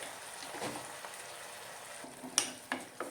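Ingredients sautéing in a hot pan for Kerala-style fish curry give a steady soft frying sizzle with a few stirring scrapes and clinks, close and moderately quiet, with no talking.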